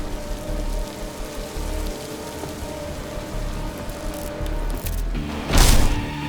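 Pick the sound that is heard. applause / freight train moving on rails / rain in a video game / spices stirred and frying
rain in a video game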